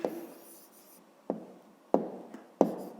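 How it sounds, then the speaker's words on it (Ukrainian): An answer to a fifth-grade math exercise being written by hand, with a few distinct pen or pencil strokes and taps on paper separated by quiet pauses, close and faint. "Ну, а зараз записуємо тоді відповідь."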